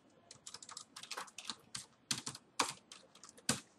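Fingers typing on a computer keyboard while filling in a Microsoft Excel spreadsheet, a quick irregular run of close, crisp key clicks with brief pauses between bursts and no talking.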